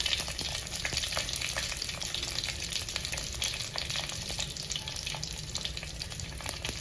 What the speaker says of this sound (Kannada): ಹಾಗೆ ಒಂದು 4ರಿಂದ 5 ಹಸಿಮೆಣಸಿನಕಾಯಿನ ಹೆಚ್ಚಿಟ್ಕೊಂಡಿದ್ದೀನಿ, ಅದನ್ನು ಈ ಒಗ್ಗರಣೆಗೆ ಸೇರಿಸ್ತಾ ಇದ್ದೀನಿ.